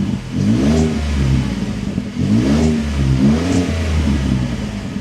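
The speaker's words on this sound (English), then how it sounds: "So let's start this up. Take a listen to that exhaust." A Ford F-150 with a Sherrod exhaust upgrade revs repeatedly on startup, the exhaust roaring up and settling in deep rising surges, loud and close.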